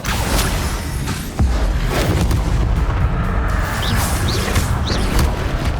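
Incendio fire spell cast in the video game Hogwarts Legacy, a heavy whooshing boom followed by a sustained roaring crackle of flames, loud and close with small bright sparkling chimes near the end.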